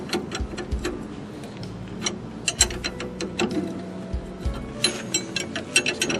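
A wrench ratchets in quick, uneven clicking bursts while loosening a ball joint on a 1992 Ford F-150, close and fairly loud with faint mechanical clanks, no talk.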